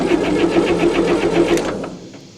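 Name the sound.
1960 Massey Ferguson FE35 tractor four-cylinder engine cranking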